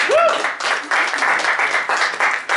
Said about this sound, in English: let's give them a round of applause for joining us